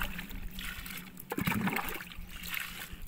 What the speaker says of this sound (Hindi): अब इससे बचा कुचा जो पानी है उसको निकाल देते हैं